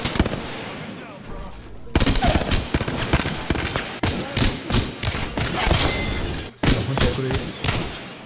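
Rapid gunfire from the Wingman pistol in Apex Legends, loud sharp repeated shots with short gaps between bursts, thumping close up and running through the whole stretch.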